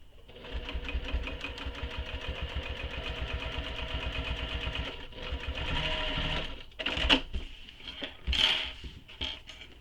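A sewing machine stitches a vinyl handbag strap, running in a fast steady mechanical rhythm for most of the clip, then slowing into short stop-start bursts near the end.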